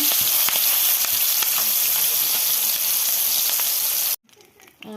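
Food fries hard in a pan, a dense, loud sizzle and crackle with scattered pops that holds steady, then drops away abruptly near the end to faint background noise.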